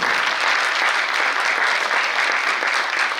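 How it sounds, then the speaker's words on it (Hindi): A theatre audience at a stage play gives loud, continuous, dense applause to welcome the play's director, a steady wash of many hands clapping with no pauses. "समय राजा है, बीच में है, जोरदार तालियों से उनका स्वागत करें।"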